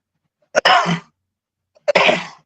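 Two sharp sneezes from one person, about a second apart, each a quick intake and explosive burst, close and loud against silence.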